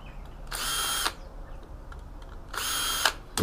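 A power tool cuts through the aluminium casing of a hard drive in a teardown of an Apple eMac, with two loud bursts of about half a second each, separated by a quieter stretch of low rumble.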